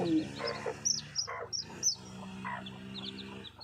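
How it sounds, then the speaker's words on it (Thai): Chickens being fed give a series of short, close clucks and chirps in uneven bursts over a few seconds, with no talking. "ให้อาหารน้องไก่กิน"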